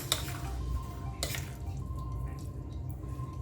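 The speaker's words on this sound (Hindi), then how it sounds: "ये दगड़ दगड़ करके हमने सारा जो है ना इसको मिक्स कर देना है" A spoon clinks and scrapes in a bowl while red kidney bean salad is mixed, giving a few close, light taps and a soft scraping rustle with no talking over it.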